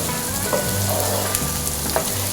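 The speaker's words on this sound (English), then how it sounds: "we're gonna add those cut in half asparagus tips" Halved asparagus tips fry in melted butter with pepperoncino in a pan, a steady close sizzle and crackle with soft spitting pops throughout.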